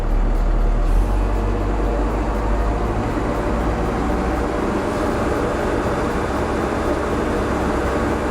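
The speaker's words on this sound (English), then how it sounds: "push it into forward third, and then slowly increase the RPM" Caterpillar backhoe loader engine revving in forward third gear with the handbrake released during a brake test: a loud, steady diesel roar that holds throughout, with the low rumble easing slightly after the first second.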